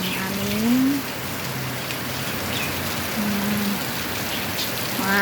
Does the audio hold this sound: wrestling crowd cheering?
no